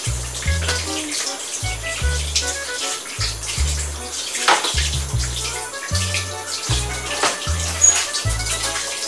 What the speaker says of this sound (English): you're actually supposed to wash your hands